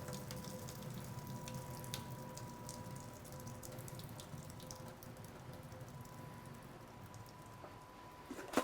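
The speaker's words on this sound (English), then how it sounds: "I'm just going to strain off this water like this." Pasta water being strained from a pot into a kitchen sink, a steady faint rushing and splashing of water that runs evenly throughout, with no talking.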